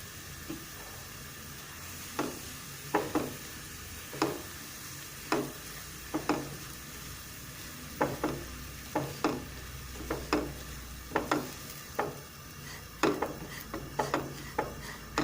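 Semolina roasts in about two tablespoons of oil in a pan for fig halwa, a low dry sizzle punctuated by repeated, regular scraping strokes of a spoon stirring it, close and alone without talk.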